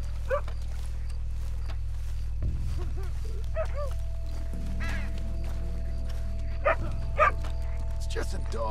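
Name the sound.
dog barking in video game Red Dead Redemption 2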